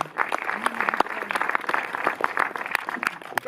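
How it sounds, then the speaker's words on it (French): Audience clapping steadily at a cinema screening at the Méliès in Montreuil, a dense, continuous patter of many hands filling the room, close and moderately loud. "c'est le moment d'applaudir Gustave des Films du Losange"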